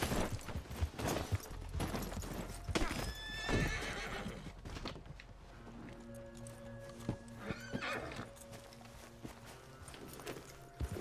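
A horse in the game Red Dead Online clip-clops along with hoofbeats, then gives a loud neigh and whinny, and its footfalls continue close by.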